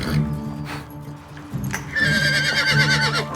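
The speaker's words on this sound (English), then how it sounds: "This horse here, I can automatically tell she likes to buck." A horse, a mare on a ranch, gives a loud, close, wavering neigh in the second half, preceded by hoof clops and shuffling.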